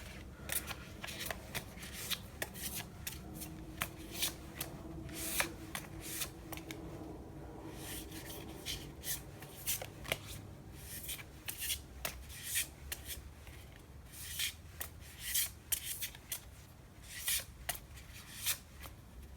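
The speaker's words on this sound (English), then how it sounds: "let's give it just a last bit of a shuffle here." Tarot cards being shuffled by hand, soft repeated riffling and sliding bursts in a quiet room, irregular but steady, close to the microphone with no talking.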